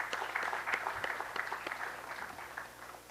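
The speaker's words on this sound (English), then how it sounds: "I think we should all applaud this." Audience applauding at an Institute of Chartered Shipbrokers event in Mumbai, a steady wash of clapping from a room of people lasting the whole few seconds, moderately loud and without talk.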